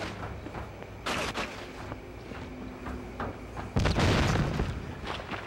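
Explosions and gunfire in the Goldeneye 007 video game: a sharp blast burst early, scattered shots, then a louder booming explosion near the end, all fairly quiet overall.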